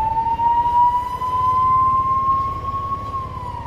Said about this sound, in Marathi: लागलं सायरन वाजले. अच्छा ॲम्ब्युलन्स आहे.